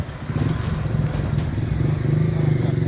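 A motorcycle ridden by a police officer rumbles low and steady at moderate distance, its throaty drone rising slightly toward the end.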